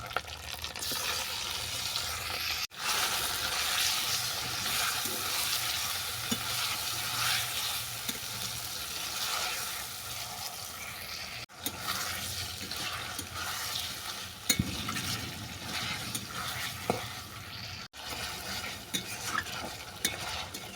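Chicken pieces frying and being stirred in a spice paste in a pan, a steady soft sizzle with repeated scraping stirs and a few sharp spatula knocks, close and continuous with no voices.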